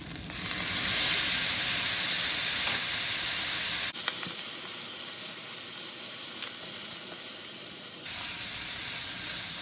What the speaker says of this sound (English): Now I'm going to add the soy sauce.